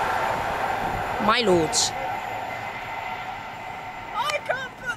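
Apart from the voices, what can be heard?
train arriving at Bushey station, West Coast Main Line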